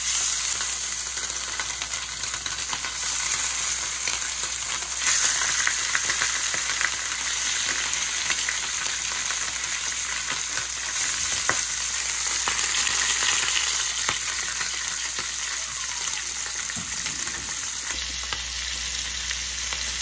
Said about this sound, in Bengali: মাছগুলো আমি উল্টাই দিচ্ছি অন্য পিসগুলো ভাজি হওয়ার জন্য।